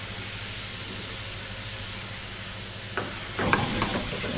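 Mushrooms and tarragon sautéing in a pan for langoustes with aged rum in Martinique, a steady close sizzle and hiss, then stirring scrapes and clatter in the last second or so.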